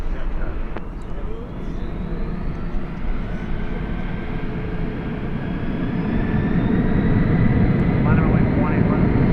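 A jet airliner roars down runway 18 Left at DFW Airport on takeoff, a loud sustained engine drone that grows steadily stronger, with a radio voice heard over it.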